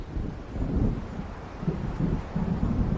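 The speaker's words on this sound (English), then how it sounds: "It seems there's a storm coming." Stormy wind gusting with low thunderous rumbles in the video game Alan Wake Remastered, near Diver's Isle by the waves, a loud, steady roar that swells and churns throughout with no one talking.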